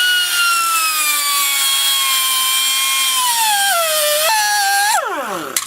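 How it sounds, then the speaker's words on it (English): An air grinder cuts through a steel wheel bearing race, a loud, steady high-pitched whine that holds for several seconds, then dips and winds down sharply at the end. "get an air grinder and cut the race in half"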